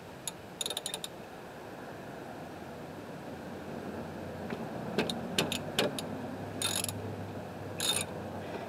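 Ratchet working a brake caliper bolt loose on a 2006 Nissan Sentra during a pad and rotor job, heard as scattered close metallic clicks and short bursts of ratcheting over a steady workshop hum.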